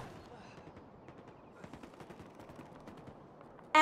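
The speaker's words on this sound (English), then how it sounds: "Taking fire." Gunfire in the Halo Infinite shooter game, a rapid automatic chatter of shots under game sounds, with a sharp louder burst right at the end.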